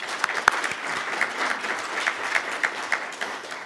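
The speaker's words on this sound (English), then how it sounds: "So let's give them a round of applause, all of our partners" An audience at a healthcare careers keynote event applauds their partners, a steady crowd clapping with a few louder, sharper claps standing out near the front, and no speech over it.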